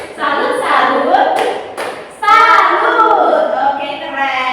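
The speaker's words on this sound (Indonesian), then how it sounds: "kita tepuk salut dulu ya" Schoolchildren in a classroom perform a rhythmic 'tepuk salut' clapping cheer, sharp hand claps punctuating loud group chanting in two bursts with a short pause between.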